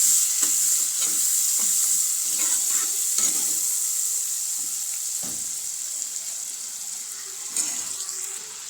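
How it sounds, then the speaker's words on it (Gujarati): Chopped tomatoes and salt are stirred around a frying pan, a steady close sizzle broken by repeated scraping strokes of the spoon, with no talking. "સ્વાદ પ્રમાણે મીઠું ઉમેરી દઈશું અને સરસ રીતે મિક્સ કરી લઈશું"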